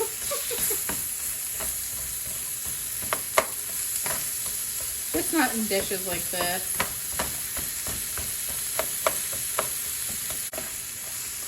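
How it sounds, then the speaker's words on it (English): Chopped onions sizzle and fry as they caramelize in a pan for a copycat Applebee's Bourbon Street chicken and shrimp dish, with a steady close frying hiss, occasional stirring scrapes and a brief spoken remark over it. "We like a little bit of color on our onions. Nice and caramelized."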